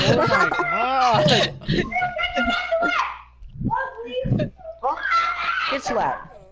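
A cat yowls and caterwauls in drawn-out, wavering cries, loud and close, with people talking and laughing over and between the calls.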